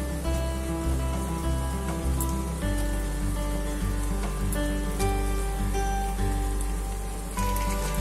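Chicken pieces go into a pan with a little water and sauce for restaurant-style dry chilli chicken, giving a dense steady crackling sizzle over a low hum.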